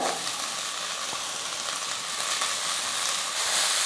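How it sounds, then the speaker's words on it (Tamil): Cooked vermicelli kichadi being stirred in a hot pan, giving a soft, continuous sizzle and hiss with faint scraping, steady and fairly quiet, with no talking. "மெதுவாக வந்து இப்படி கலந்து விட்டுக்கலாம்"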